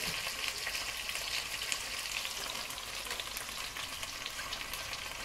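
Chicken wings sauté in a hot pan for paella, producing a steady, dense sizzle that holds evenly throughout, close and continuous with no talking.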